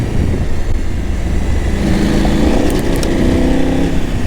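A KTM 890 adventure motorcycle of 110 horsepower rides a dirt loop near the Paluxy and Bosque crossing in Texas, its engine a steady, close, continuous drone with slight rises in pitch and no speech.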